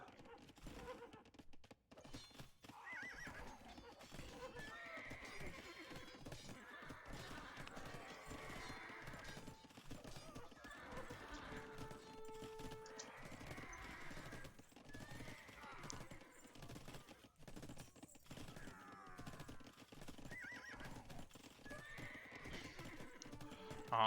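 Massed horses whinny and neigh amid clattering hooves and combat noise as cavalry units die to a castle's murder holes during an Age of Empires II match, a dense, continuous din of distressed horse cries throughout.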